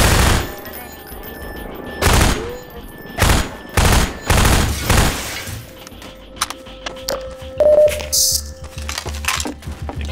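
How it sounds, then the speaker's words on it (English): Half-Life 2 gunfire hammers out in several loud, heavy volleys in quick succession, then breaks into scattered sharper shots and clatter as the firing tails off. "Bullets in the face."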